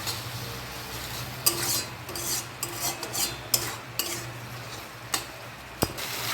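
A spatula stirs okra and potato curry in a pan with a little added water, giving repeated scraping strokes and sharp metallic clinks over a low, steady sizzle.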